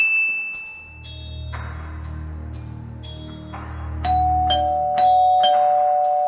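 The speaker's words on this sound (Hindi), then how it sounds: "गुल्ली बुल्ली का डोरबेल बजाता है" Chiming bell tones ring out one after another in a short melodic sequence over a low hum, clear and fairly close, like an electronic doorbell.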